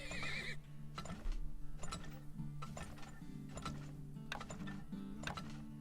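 A horse in the oil-drilling video game Turmoil gives a short, shrill whinny at the start, followed by game sounds of clicking gears and ratcheting mechanisms with light, rhythmic hoof clip-clops.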